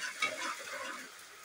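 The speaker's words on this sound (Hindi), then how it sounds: "लहसुन अदरक का पेस्ट डालेंगे इसमें, मिक्स कर लेंगे इसको।" Onions frying in a pan with garlic-ginger paste just added and stirred in, a steady close sizzle with scraping stir sounds, no talking.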